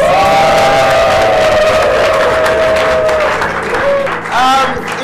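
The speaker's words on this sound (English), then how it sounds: "I think the chief deserves a louder round of applause." A crowd at a social gathering applauds and cheers loudly, with whoops and a sustained tone running through the noise before it tapers slightly.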